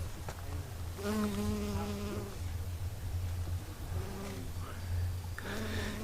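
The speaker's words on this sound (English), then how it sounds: "Some sort of native bee, I'd say." A native bee buzzes among wildflowers in a forest, its faint, close hum coming in short passes that rise and fade over soft outdoor background.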